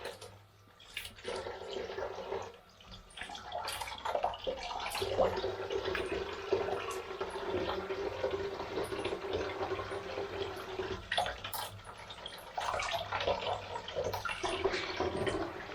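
Cold tap water runs into a kitchen sink while croquettes are being made, a continuous splashing flow that stops briefly a couple of times and resumes, close and moderately loud.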